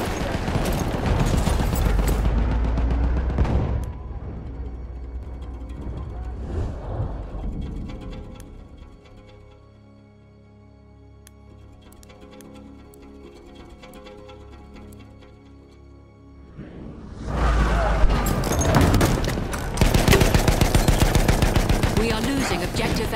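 Machine gun and rifle fire in the Battlefield 1 video game: loud, dense automatic bursts at the start and again near the end, with quieter distant shots between.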